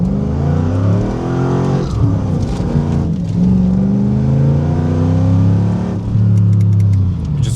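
A car with ESP switched off accelerates hard, its engine revving loudly and close, with rising gear pulls and a brief dip before climbing again.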